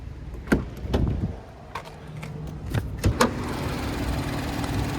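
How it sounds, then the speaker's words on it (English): Hood release and latch of a 2023 Nissan Rogue SL with a 1.5-liter turbocharged three-cylinder, sharp close clicks and thuds in quick succession, then a low steady ambient hum. "I'm gonna go ahead and pop the hood"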